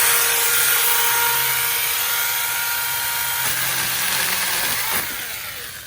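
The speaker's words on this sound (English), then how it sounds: "I'm pruning my tree for real with the SeeSii 6-inch mini chainsaw" A SeeSii 6-inch mini chainsaw cuts tree branches with a steady, loud, high-pitched motor whine close by. The sound shifts slightly as the cut goes on and eases near the end.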